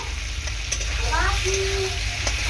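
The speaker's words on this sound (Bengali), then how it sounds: "আবারও মশলার মধ্যে ভেজে রাখা আলুগুলো দিয়ে খুব সুন্দর করে এরকম করে কষিয়ে নিতে হবে।" Fried potatoes are stirred into spice masala in a pan as a Bengali rohu fish curry is cooked, giving a steady close sizzle with scraping stirs.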